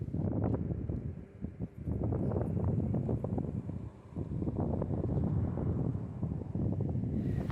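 Cold wind gusts steadily across an open hillside campsite near Santa Fe at sunset, a loud continuous rumble with brief dips, buffeting the microphone throughout.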